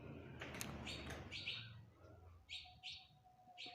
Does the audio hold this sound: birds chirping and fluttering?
yes